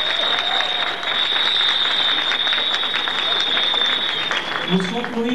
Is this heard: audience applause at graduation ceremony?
yes